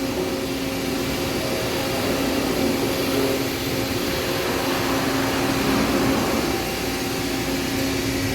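An OKK HM1250S horizontal machining center moves its axes, producing a steady, loud mechanical whir and hum with a faint tonal whine, continuous and unchanging, with no talk.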